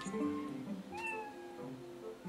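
A cat in Zelda Twilight Princess gives a short, quiet meow, a single rising-then-falling call under soft background game ambience.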